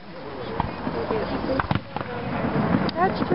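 Regular consumer fireworks going off outdoors: a run of sharp pops and bangs at uneven intervals, moderately near, with crackling and a few whistling streaks, as people talk over them.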